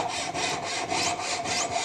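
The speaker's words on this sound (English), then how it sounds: "my jeweler's saw blade and a ring clamp to hold the spacer, and I make a little groove in the metal right on the lines that I marked." A jeweler's saw cuts a small groove into a metal spacer held in a ring clamp, giving a steady, rapid back-and-forth rasping of even strokes, close and alone with no talking.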